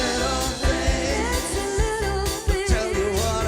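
A song's end chorus plays as full, steady music with sung melody and sustained chords, ending with a few brief dips and accents.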